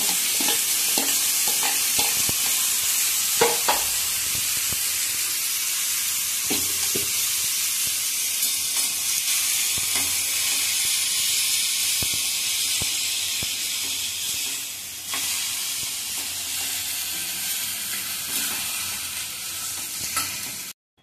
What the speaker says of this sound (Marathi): आता यात आपण जे धुवून घेतलेली होती मसूरची डाळ आणि बटाटे ते टाकून द्या.